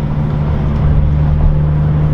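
BMW M2 fitted with an Akrapovic Evolution exhaust, driven in traction mode with manual shifting, a loud, steady close-up engine drone with a strong low tone and no speech.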